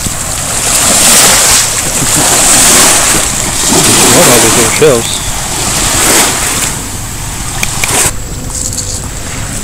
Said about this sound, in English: There's waves behind me touching by.